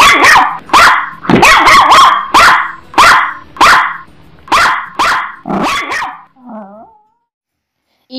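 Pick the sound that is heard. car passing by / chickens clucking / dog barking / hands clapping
dog barking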